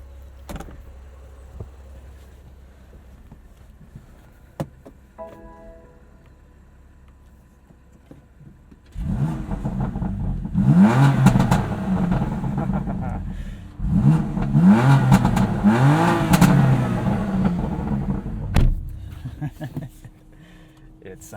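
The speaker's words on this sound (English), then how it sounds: "in neutral, it'll rev all the way up to redline" The engine of a 2021 BMW M2 Competition with DCT revs hard in neutral, two loud sustained bursts climbing and falling in pitch after a quiet idle, with someone talking before and between the revs.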